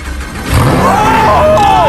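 A Lamborghini engine cranks and fires, then its tone climbs and wavers through loud revs, with a faint background murmur.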